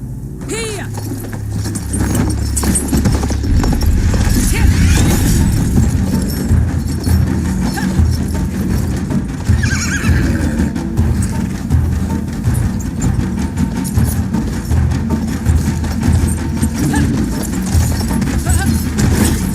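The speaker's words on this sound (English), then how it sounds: "Bedouin treasured their horses, and in return, those animals granted their riders unparalleled speed and" Horses gallop in Battlefield 1, a steady clopping of hooves with rumbling movement and background battle ambience; a brief whinny may surface near the start.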